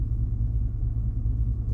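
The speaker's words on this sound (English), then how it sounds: "Start the truck again." 1991 Chevy Silverado truck engine running, a steady low rumbling idle, close and continuous with no voices.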